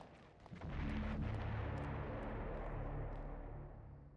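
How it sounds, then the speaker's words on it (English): Explosions in the video game Eternal Darkness, set in the trenches of the Somme: a sustained, heavy rumbling roar that swells quickly, holds steady for several seconds and then fades slightly, with no speech over it. "Shit is exploding."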